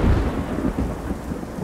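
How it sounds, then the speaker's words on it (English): Rain and thunder in the video game Chronos: Before the Ashes: a low rolling rumble of thunder over steady hissing rainfall, continuous and enveloping with no voices. "Nice rain"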